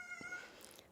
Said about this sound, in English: And there's the kitties.